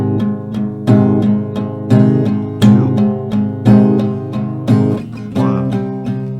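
Acoustic guitar strummed in a steady rhythmic pattern, two rounds on each chord before switching back and forth, about ten bright, close strokes with ringing sustain and no talking.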